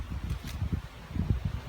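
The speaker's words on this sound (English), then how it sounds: "it's kind of windy out here" Wind gusting outdoors and buffeting a microphone with a low, uneven rumble and rustle, steady throughout a short stretch with no speech.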